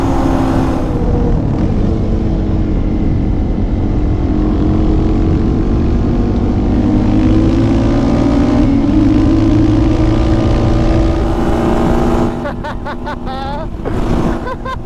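A small four-wheeler ATV engine drones loudly and steadily while riding, its pitch rising and falling with the throttle and gear changes, before easing to a lower idle near the end amid wind buffeting.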